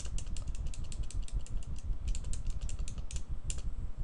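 Rapid, steady clatter of keys on a computer keyboard as Hello World is typed into a Visual Basic .NET program, close and continuous with irregular clicks, no voices.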